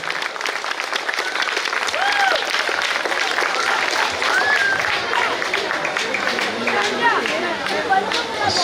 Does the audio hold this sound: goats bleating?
no